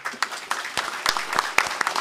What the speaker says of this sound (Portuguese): eu gostaria de uma salva de palmas para o presidente dessa casa